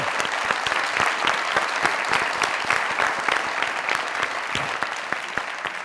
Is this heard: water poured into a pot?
no